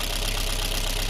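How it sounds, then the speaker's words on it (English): A rebuilt Kia Rio G4LC engine idles steadily at close range, a continuous mechanical hum with a faint knocking tick running through it, alone without talk. "I've started the engine. It ran, started smooth, it ran"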